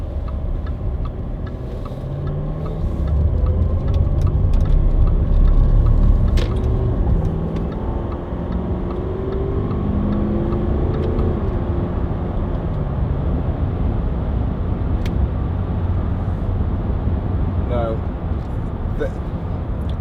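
Range Rover 4.4 TD V8 cruising along a bumpy dual carriageway, giving a steady low road and engine rumble inside the cabin with small knocks and rattles from the uneven surface, and someone talking over it.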